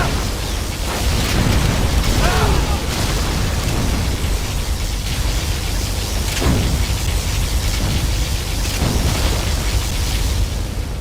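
Particle cannon blast in the real-time strategy game Command & Conquer Generals, a loud sustained roaring burst of explosive energy with repeated booms and crackling layered over each other for several seconds.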